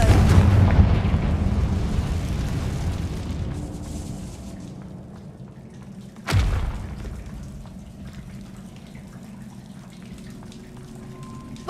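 Confringo fire spell in Hogwarts Legacy, a sharp fiery blast partway through, loud and close, rising over a rumbling ambient bed that fades before and after, with no talking.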